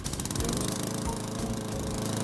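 In the French cartoon Angelo la débrouille, a lawn mower tied by a rope to a central stake runs with a loud, continuous rattling engine drone that holds steady throughout.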